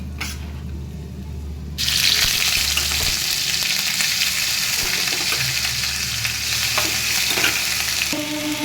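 Ginger garlic paste fries with green chillies in a pan for crispy chilli baby corn, a loud steady sizzle that jumps up after a quiet start and carries on alone with faint stirring scrapes.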